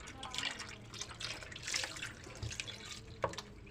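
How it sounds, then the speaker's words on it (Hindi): Cold water poured into a pot of churned butter while making desi ghee at home, a soft splashing, trickling pour with faint sloshing running through the whole stretch, fairly quiet and close, with a brief clink near the end. "पूरा जो है अपने ठंडा पानी डाल लेना है।"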